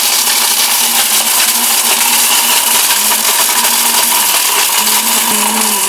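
An electric blender grinds turmeric, a loud, steady high-pitched motor whine that runs continuously without pause, close up and alone.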